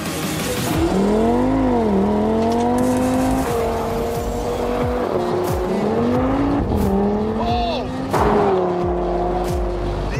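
An Audi TT sports car driven hard on a Croatian road, its engine loud and close, revving up and dropping through gear changes with brief tyre squeal, under a voice.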